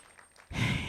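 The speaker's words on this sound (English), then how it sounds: "So give yourselves a round of applause real quick" Outdoor crowd applause at a Juneteenth flag raising in Wakefield bursts in loud and dense halfway through, after a quiet lull, and carries on steadily to the end.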